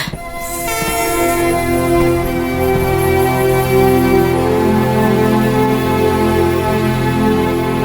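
A train at a railway station sounds a long, loud, steady horn that holds for several seconds over a rumbling background, with no voices.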